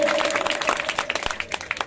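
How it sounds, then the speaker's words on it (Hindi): A crowd at an Indian political rally for a mayoral race claps briefly. The claps are scattered and uneven, with a faint tonal hum at the start. "जोरदार तालियों से इज्जत अफजाई करें।"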